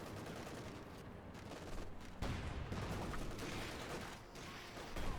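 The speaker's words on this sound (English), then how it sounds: "More rockets or projectiles flying at the Panther there." Rockets and artillery in Company of Heroes 2 fire on a Panther tank: a continuous, fairly distant barrage of booms and crackling gunfire under the battle ambience.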